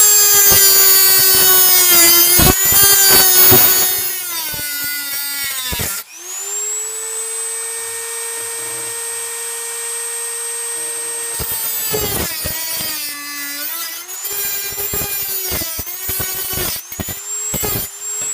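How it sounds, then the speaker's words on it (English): A Dremel rotary tool cuts through a flagpole, a high-pitched whining grind that cuts out midway, leaving a steadier tone, then resumes with shifting pitch as the cut continues. "I've already marked it and started cutting with the Dremel."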